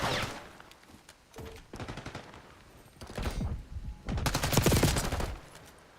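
Submachine gun fire in the video game Call of Duty, heard as repeated bursts of rapid automatic shots that grow denser and louder toward the end, with dense gunfire filling the middle stretch.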